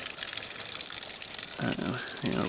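Water from a roof drain gushes steadily into a tank, a loud continuous rushing splash that swells briefly near the end.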